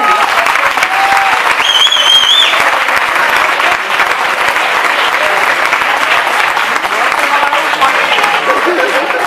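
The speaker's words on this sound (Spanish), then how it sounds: "¡Un aplauso para él!" Loud, sustained applause from an audience at a local sports awards gala, dense clapping filling the hall for several seconds with a faint voice briefly heard over it.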